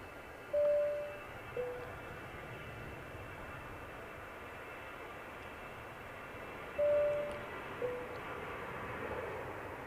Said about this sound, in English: next departure, just lining up here, or just lined up, is this Lufthansa A320 going back to Frankfurt